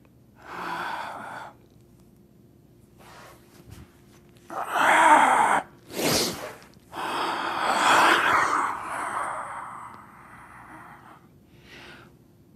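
A person demonstrates deep breathing, with several long, loud breaths and sharp inhales in separate bursts and quiet pauses between them, and no talk.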